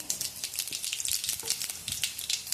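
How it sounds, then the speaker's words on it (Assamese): Cumin seeds crackle and sizzle in hot oil in a home kitchen, a steady bright frying hiss with scattered small pops throughout, close and moderately loud, no voices. "তেল গৰম হৈ গৈছে এতিয়া দিম জিৰা গুটি"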